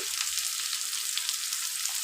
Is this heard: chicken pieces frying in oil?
yes